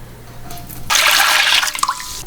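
Water pours into a pot from a faucet while dandelion jelly is being made, starting as a quiet trickle, then a sudden loud rushing gush that tapers off into splashes.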